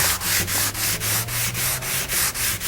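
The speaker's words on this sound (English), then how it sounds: "Very fine sandpaper. Go over very easily our wood burning." Very fine sandpaper rubs back and forth over the wood of a handmade zither with wood-burned decoration, about ten even, rhythmic strokes, close and loud with no talking.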